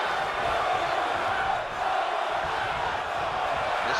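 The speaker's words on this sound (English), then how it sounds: "This crowd is getting heavily involved in this match now" A wrestling arena crowd roars and chants steadily during a championship match between Vader and Muta, a dense wash of voices with a brief dip midway and faint talk within.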